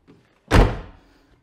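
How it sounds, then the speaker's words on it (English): A Hillman Imp's window is shut with a single solid, close thunk that rings briefly and fades, with quiet before and after. "Window shut."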